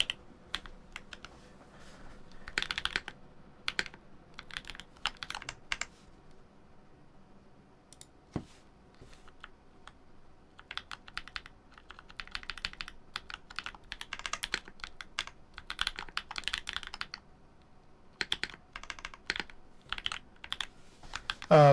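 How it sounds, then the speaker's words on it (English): Typing on a computer keyboard at a desk, in irregular bursts of quick clicking keystrokes separated by short pauses, close and fairly soft, with no talk. "I'm just typing some shit on the side"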